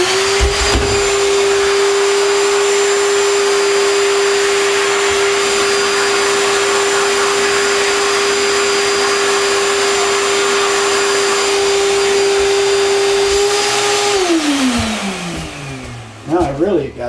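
A loud, steady high-pitched whine from an air blower or vacuum clearing dust out of freehand-carved half-inch letters in pressure-treated lumber, running continuously and then spinning down near the end.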